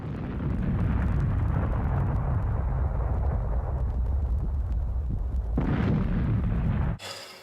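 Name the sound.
explosion of Rotor in the movie Rotor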